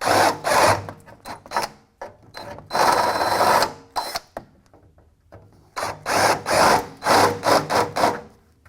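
A step drill bit bores out plug weld holes in sheet metal, grinding and rasping in loud, close bursts of varying length separated by brief pauses, with no talking.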